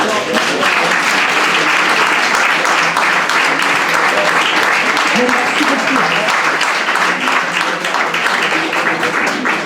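A crowd applauds athletes at a talk on sleep and sport: dense, sustained clapping throughout at an even, full level, with some voices mixed in.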